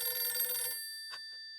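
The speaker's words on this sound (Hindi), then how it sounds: "मेहता साहब फिर से आया फोन" A telephone bell rings in a bright, sustained metallic trill that cuts off partway, followed by a steady electronic tone and a couple of faint sounds, all fairly close indoors.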